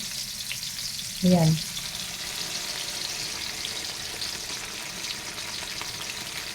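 Sardines fry in a pan with upo (bottle gourd), a steady close sizzle broken once by a short spoken word early on.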